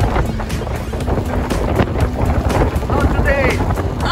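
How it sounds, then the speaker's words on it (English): Strong wind buffets the microphone during a rainy typhoon day on a pier in South Korea, a steady roaring rush with splashing water beneath, while a person talks over it. "Rainy and windy."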